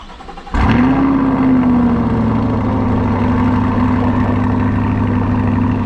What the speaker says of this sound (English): cold starting the C8 Corvette with that beautiful AWE exhaust on it